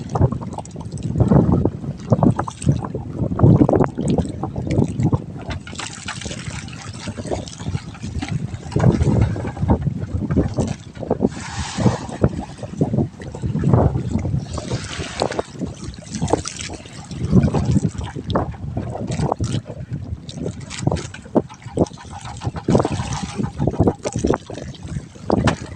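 Gusty north wind buffets the microphone on a boat, with water sloshing and trickling nearby and faint voices now and then.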